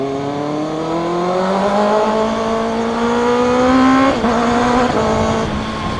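Kawasaki ZX6R sport motorcycle engine heard from the rider's seat, revving steadily higher through a gear, a brief dip near four seconds as it shifts, then pulling on loud and close with no talk.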